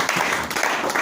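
Brief burst of steady applause from a church congregation, dense and close, with no pauses.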